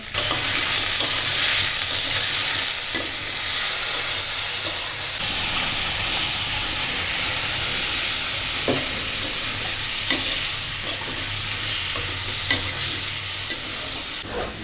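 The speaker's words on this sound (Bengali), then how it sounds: "চিংড়ি মাছ রান্না করা হচ্ছে আজকে" Fresh shrimp frying in a pan, giving a steady, close, loud sizzle and hiss throughout, with occasional sharp clicks and scrapes from stirring; no voices.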